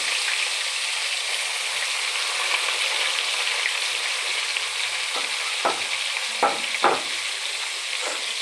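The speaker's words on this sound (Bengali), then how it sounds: "আলু পেঁয়াজ আমি একসাথেই দিয়ে দিয়েছি, দুটোই একসাথে ফ্রাই হয়ে যাবে" Potatoes and onions fry together in a pan with a steady, close crackling sizzle, broken by a few sharp stirring knocks near the end.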